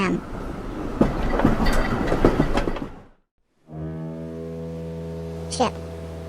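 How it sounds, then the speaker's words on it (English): A tram rolls along its rails with clanking, irregular knocks over a rumble, then after a brief silence a sustained horn-like tone sounds with a short screech near the end. "Tram."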